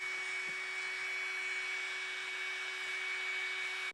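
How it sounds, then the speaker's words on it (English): Heat gun blowing on the windshield trim of a 4th gen Camaro, a steady whirring hum with a high whine held evenly for several seconds before cutting off abruptly at the end. "I've been heating it up with a heat gun slowly and surely"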